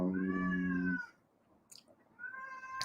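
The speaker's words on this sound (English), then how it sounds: "Hush, cat, you're not coming in here." An indoor cat gives two clear meows, one long and drawn-out and then a shorter one after a pause. Both are close and fairly loud.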